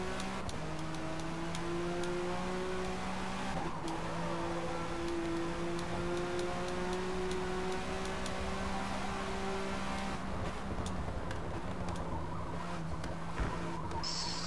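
A car engine in a racing video game drones steadily with sustained revving tones that shift pitch through gear changes and a hairpin, accompanied by faint ticking, with no talking.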